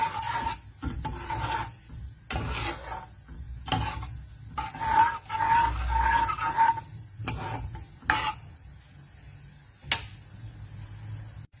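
Rice with coconut milk stirred in a pot for Maharashtrian masale bhaat, a spoon scraping and rubbing in repeated strokes with soft sizzling underneath, close and steady with brief pauses.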